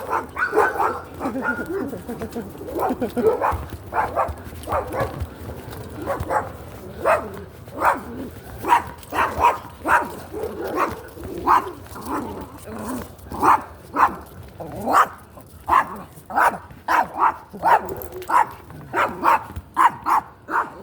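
A small dog barks and yips in quick, repeated bursts at a park, fairly close and loud, with a voice talking over and between the barks.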